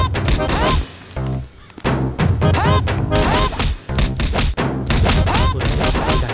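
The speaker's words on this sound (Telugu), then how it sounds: "దబ్బి దబ్బిమని సౌండ్ వినపడుతుంది ఏంట్రా?" Heavy thumping blows land repeatedly and loudly, mixed with crashing impacts and shouting voices, in a dense, chaotic burst.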